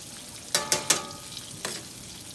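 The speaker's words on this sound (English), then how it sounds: "Listen to that sound of it just fried on up" Buttermilk-battered pork chops frying in a pan, a low steady sizzle punctuated by a few sharp pops and crackles, close and alone without talk.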